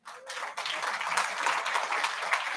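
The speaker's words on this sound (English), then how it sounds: "So big applause for her" An audience at a World Food Day event bursts into applause for a speaker about to give closing reflections: dense, even clapping from many hands, rising quickly and holding steady at full strength.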